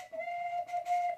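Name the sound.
wooden folk whistle made from a birch branch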